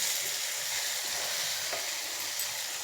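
Onion and tomato fry in a pan for a catering-style egg gravy curry, giving a continuous, even sizzle with no talking.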